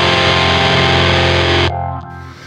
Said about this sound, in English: that was the overdrive distortion over to patch A